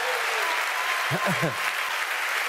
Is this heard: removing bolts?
no